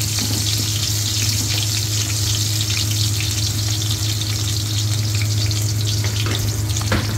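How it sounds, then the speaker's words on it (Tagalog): Onions sautéing in a pan for ginataang suso, a loud continuous sizzle over a low steady hum, with occasional scrapes and clicks from stirring. "Gawin natin yung sibuyas. Haluin ng konti"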